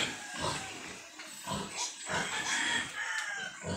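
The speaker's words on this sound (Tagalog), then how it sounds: "Mama Pig." A sow that is lame from an injury grunts and squeals in short bursts on a farm, close by, with chickens faintly in the background.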